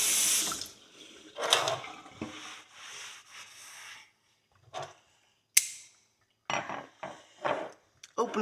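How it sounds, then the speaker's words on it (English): Tap water runs and splashes over a small size 0 front pony horseshoe in a sink, coming in uneven bursts with short pauses and rubbing and clinking of the metal between flows. "We're going to get the shoe wet again."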